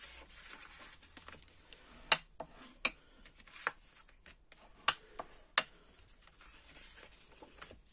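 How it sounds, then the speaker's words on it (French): Paper being folded back and forth and creased into an accordion for a mini album, giving quiet rustles and several sharp crisp creasing snaps spread through the clip, close by with no talk. "Et je viens marquer mes plis pour que ça fasse un accordéon."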